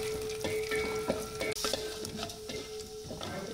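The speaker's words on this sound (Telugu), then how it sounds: "1/2 స్పూను ఆవాలు, మినపప్పు 1 స్పూను" Mustard seeds and urad dal frying in hot oil, a constant close sizzle with small pops and crackles throughout, and no talking.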